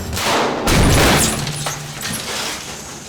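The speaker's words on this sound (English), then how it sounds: "So what we're looking at is putting enough explosives to crack the wall, but not send it flying around." Explosive charges blast a wall of a 22-storey London tower block during demolition, a sudden loud boom with crackling debris that rumbles and fades over a few seconds, with no talk.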